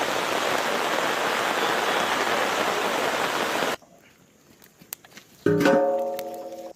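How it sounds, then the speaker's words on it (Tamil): Heavy rain pours down in a loud, dense, steady hiss for several seconds, then cuts off abruptly into near quiet, followed by a few clicks and a brief ringing tonal sound. "பெரிய மழையா வருது."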